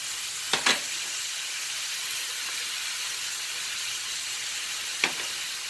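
Shrimp frying in garlic butter in a pan, a steady close sizzle throughout with a couple of brief sharper pops and crackles.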